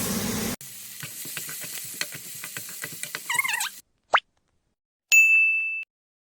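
Eggs frying in a little oil, giving a steady crackling sizzle with popping spatters for several seconds, then it cuts off. A short sharp clink and a brief ringing ding follow.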